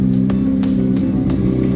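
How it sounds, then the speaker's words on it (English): A 2003 Honda CBR600RR sport bike fitted with a Two Brothers exhaust idles loudly nearby, a steady deep growl with faint rhythmic pulses and no voices. "Sport bike growling."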